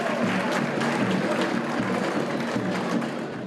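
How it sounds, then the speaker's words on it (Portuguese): Stadium crowd at a Paulistão football match applauding as a Santos player is substituted, a dense steady roar of clapping and crowd noise filling the whole stretch, loud and continuous. "Saída para descansar e ganhar aplausos."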